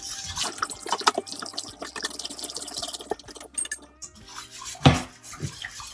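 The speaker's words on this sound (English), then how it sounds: "we're ready to add our warm milk. And as we do this, we're going to whisk this in." Warm milk poured into a pan for lasagna sauce, with a whisk clinking and scraping against the metal, brief liquid splashes and a sharp clatter near the end, all close and fairly loud.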